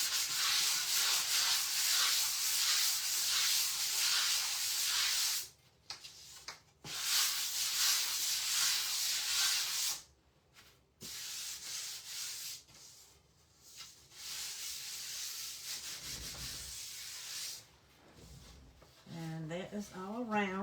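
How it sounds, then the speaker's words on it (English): Wood rubbed with a 120 grit sanding sponge, a close, loud rasping hiss in long continuous strokes, pausing briefly between passes, with a person talking near the end. "I am going to use my 120 grit sandpaper real quick."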